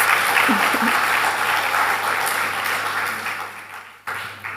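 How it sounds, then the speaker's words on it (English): A room full of people applauding at a primary school graduation, steady dense clapping that gradually fades, then a brief renewed burst at the end. "Yes, clap for that."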